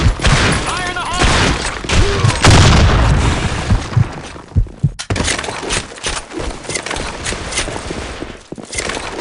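Grenade blasts and gunfire fill a Blackshot first-person shooter match. Loud booms and dense rattling shots go on throughout, with game voice callouts over the top.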